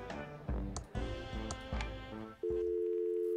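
A telephone in the Thimbleweed Park video game: a few dial clicks and rhythmic tone pulses give way to a steady, sustained tone, clear and close with no talking.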